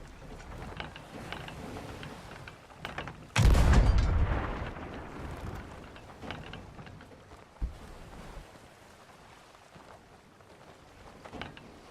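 A ship's cannon fires in the Sea of Thieves beta with one loud, meaty boom that decays over about a second, followed by quieter mechanical clanks and creaks of the deck.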